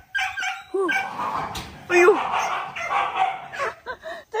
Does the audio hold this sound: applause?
no